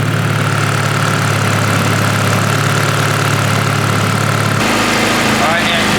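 Honda K-series engine swapped into a Nissan S14, idling after its first start: a steady, loud mechanical drone with a constant hum, which shifts abruptly near the end as the engine is shut off.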